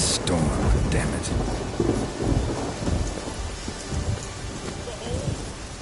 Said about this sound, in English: Storm, damn it.